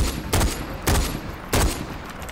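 Gunfire in the video game Far Cry 4, with three loud, sharp shot bursts spaced roughly half a second apart, fired at the player.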